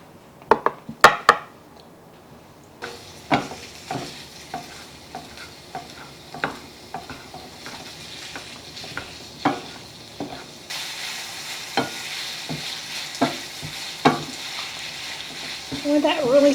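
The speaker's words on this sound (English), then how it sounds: "I love smelling hamburger meat when it's cooking" Ground hamburger meat browning in a pan, with a steady soft sizzle broken by repeated sharp clicks and scrapes of a utensil stirring and chopping the meat, louder and hissier toward the end.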